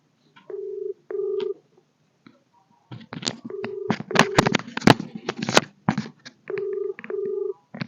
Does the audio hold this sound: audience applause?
no